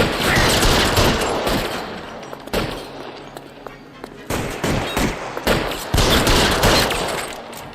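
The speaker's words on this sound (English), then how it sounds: "I'll lay down some suppressive fire." Suppressive gunfire in the L.A. Noire video game, rapid bursts of loud gunshots repeating in clusters with brief gaps, close and dense, rattling like a fusillade.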